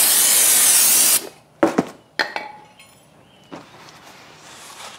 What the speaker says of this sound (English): take some brake cleaner